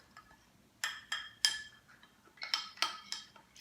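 Fresh lemon juice and oil being mixed in a bowl for a keto turkey, with a series of sharp clinks and taps from a utensil against the dish, irregular and close in a quiet kitchen.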